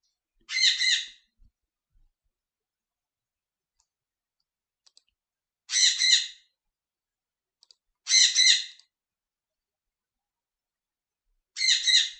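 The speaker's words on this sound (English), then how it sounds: "you guys can hear my bird right," A pet bird indoors gives four loud, bright chirping bursts spaced several seconds apart, each short and close, with near silence between them.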